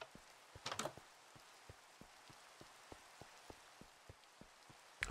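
Rain falling in a Minecraft world, a steady soft hiss of drops with regular faint ticks, fairly quiet and with no talking.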